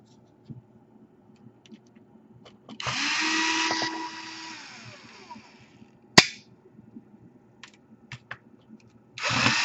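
Small powered screwdriver whirs in short bursts while taking out hinge screws on an Asus VX7 series laptop, one longer run followed by brief taps, a sharp click and a final short buzz in a quiet room.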